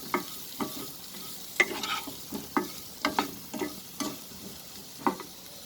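Garlic fries over a medium flame in a pan for a potato dish, with a soft sizzle beneath repeated scraping stirs that come in uneven bursts roughly every half second. No one speaks.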